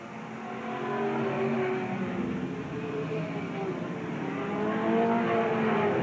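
Race cars circle the track at Willamette Speedway in 1987, their engines a steady, continuous roar that swells and fades slightly as the pack passes, with faint crowd or announcer sound beneath.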